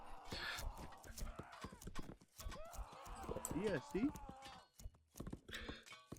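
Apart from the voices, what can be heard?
horse hooves clip-clopping in video game 0 A.D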